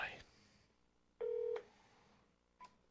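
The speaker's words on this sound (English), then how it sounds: "I have to manually dial Bruce" A telephone is dialed by hand, producing a clear, steady DTMF keypad tone lasting about a third of a second, then a much shorter, softer tone. Both sit over a faint, quiet background hum.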